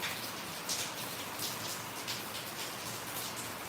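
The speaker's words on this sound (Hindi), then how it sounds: "हमारे यहाँ भी बारिश है।" Steady rain falling outdoors, a dense even hiss of drops hitting surfaces with slight bursts of heavier patter, continuous and close with no voices.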